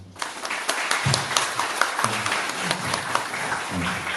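An audience at a 2017 Dragon Nest press meeting gives a steady round of applause. Scattered individual claps stand out over the dense clapping, a few low voices murmur underneath, and the sound holds at an even level throughout.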